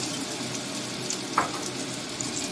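Chopped tomatoes and salt frying in a pan of potol jhal with mustard and poppy seed paste: a loud, steady, close sizzle with a brief stir or clack midway and no talking.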